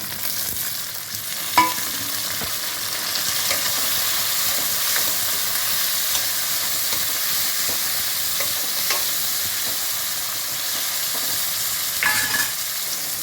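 Vegetables fry in hot oil with a steady, loud sizzling hiss that runs throughout, close up, joined by a few sharp clinks and stirring scrapes and no speech.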